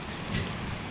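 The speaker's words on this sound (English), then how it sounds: "The rain is cold." Cold rain falling at a Florida campsite, a steady close hiss of drops hitting surfaces, loud and continuous.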